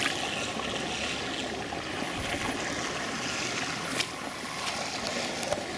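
Water gushes steadily out of a storm-created hole in the ground by a spring, a continuous close rushing wash with no talk.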